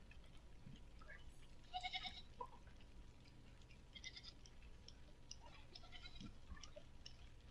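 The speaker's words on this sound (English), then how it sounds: "Who had all of these goats?" Goats bleat faintly in the distance, with a couple of short calls amid steady background noise and light ticking sounds.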